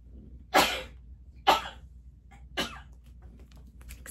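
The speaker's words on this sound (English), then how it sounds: "I'm gonna sneeze." A person sneezes a few times in a quiet room, three sharp bursts spaced about a second apart, each fading quickly, followed by faint breathy noises.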